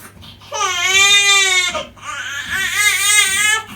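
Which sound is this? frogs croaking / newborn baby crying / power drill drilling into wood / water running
newborn baby crying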